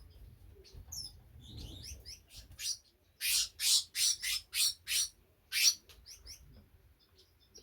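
Birds squawk and chirp in a lively aviary, a run of loud harsh calls repeating in quick succession amid softer tweets and low background rumble.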